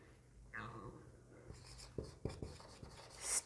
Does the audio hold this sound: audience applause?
no